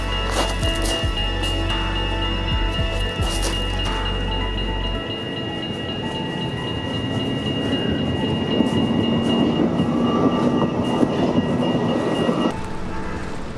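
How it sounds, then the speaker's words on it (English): A city tram rolls past in front of a modern skyline, its steady rumble and wheel noise swelling through the middle and easing off near the end, with a loud low outdoor hum over the first few seconds. "I managed to capture the tram going past the skyline"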